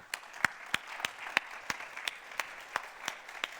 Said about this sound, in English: I want to invite you all for the round of great applause for our great speakers for this morning